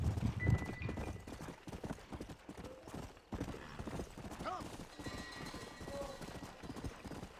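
Horse hooves clip-clop steadily through the open world of the video game Red Dead Redemption, a steady galloping rhythm with a brief whinny, played under ongoing game sounds and voices talking over it.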